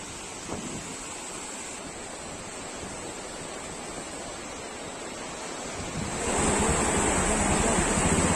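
A continuous, heavy roar of water pouring over a curved, horseshoe-shaped dam spillway in heavy monsoon rain, steady and broadband, growing louder toward the end.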